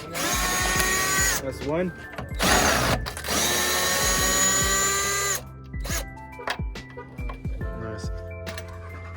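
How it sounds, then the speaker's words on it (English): A power tool undoes a bolt on top of a Ford F-150 bumper during an LED headlight install, with loud whirring bursts broken by pauses, clanks and handling noise, and someone speaking briefly near the end. "So we're gonna undo the bolt on top."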